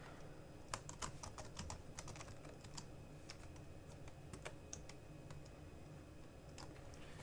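Steady, quick clicking of PowerBook G4 laptop keys being typed, close up, over a constant low hum with no voices.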